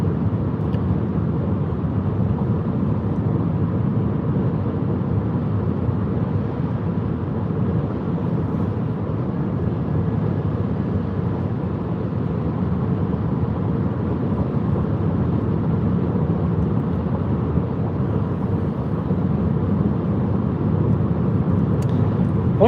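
Steady car cabin drone while driving home, a constant low engine and road rumble with no breaks or changes, moderately loud and even throughout.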